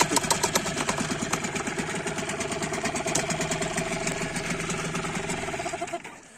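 A Mercury 5 two-stroke outboard boat motor runs steadily at idle, a close, even buzzing drone with a fast regular pulse that continues alone and cuts off near the end.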